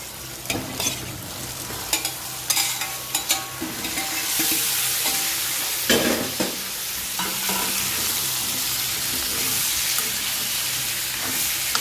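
Pork going into a pan of frying potatoes and being stirred: a scraping stir and clatter of a utensil over a steady sizzle that swells louder after the meat lands, close and continuous, with no talking.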